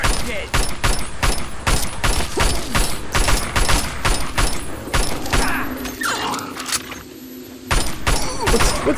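Gunfire in the video game Fallout 3 comes as rapid bursts of loud, sharp shots with a short lull near the end before firing resumes, while a player talks over it.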